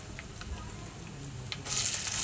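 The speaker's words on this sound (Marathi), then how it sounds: "आता आपण यावर कांदा घालूया" Sliced onion drops into a pan of hot oil with ginger, garlic and green chilli, the steady soft sizzle jumping to a louder, brighter hiss about three-quarters of the way through.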